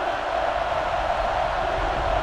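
Stadium crowd noise fills an NCAA Football 09 game on a tense third-and-short play, a steady, loud wash of cheering and roaring fans with no breaks across the short span.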